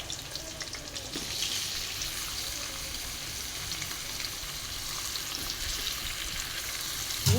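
Cardamom, garam masala, garlic and onion frying in a pan, a continuous bright sizzle with occasional stirring clatter, close and steady, no talking.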